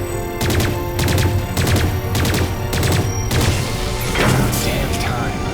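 Bursts of rapid gunfire in the video game Lost Planet 3, several clustered volleys of sharp shots over a loud, dense game soundscape with rumbling low ambience.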